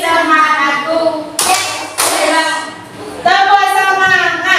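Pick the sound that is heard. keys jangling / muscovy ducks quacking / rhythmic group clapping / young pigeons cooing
rhythmic group clapping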